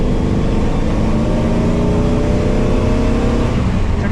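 A 1977 Toyota Land Cruiser FJ40 engine pulls steadily in third gear at around 2,600 RPM, a loud, continuous close-up drone with road rumble and no break in the sound.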